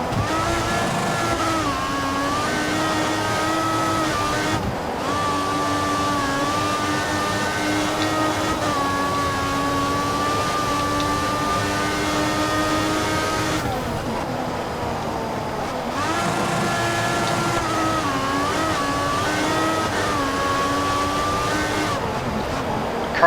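Formula One race car engines from the F1 2014 racing game at the Spain circuit, a loud, continuous high-pitched whine that rises and falls with gear shifts, with brief dips as revs drop before climbing again.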